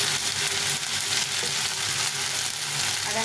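Spices with ginger, cumin and chili fry in a pan with a steady, loud, close sizzle that continues without a break.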